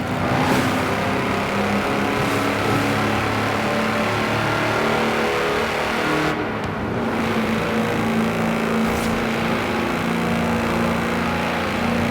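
Tractor engine at high speed in the racing game Forza Horizon 4, a steady loud continuous drone held throughout with no talk.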